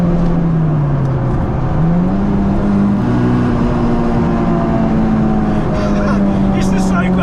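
Honda Del Sol with a swapped-in Integra Type-R engine, revving loud and close as the car accelerates, pitch dipping then climbing and holding high, with a voice talking over it.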